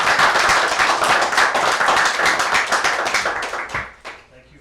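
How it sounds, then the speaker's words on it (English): Board meeting attendees applaud a newly introduced staff member with a dense burst of clapping that holds steady for several seconds, then thins and fades out near the end. "Could we give Wynn a round of applause?"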